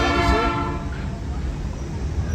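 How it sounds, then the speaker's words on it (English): A Sierra Railroad excursion train sounds its whistle at a road crossing, a loud sustained tonal blast that fades into rumbling rail noise. "So the train whistle that you're hearing is a safety requirement for the railroad"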